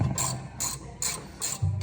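A ratchet fitted with a short socket clicks rapidly while tightening a bolt on the rear brake of a 150 Series Toyota Prado, in four quick, evenly spaced bursts, close and loud with no talking.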